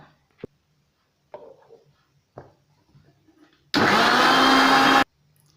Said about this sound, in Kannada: ಇವಾಗ ನಾನು ಈ ಕ್ರೀಮ್ನೆಲ್ಲ ಮಿಕ್ಸಿನಲ್ಲಿ ಹಾಕ್ತೀನಿ